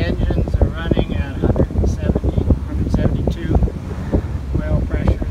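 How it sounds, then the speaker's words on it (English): Twin Hino 135HP marine diesel engines run steadily aboard a boat, a continuous loud drone mixed with wind buffeting the microphone, while someone talks over it. "See, the engines are running at"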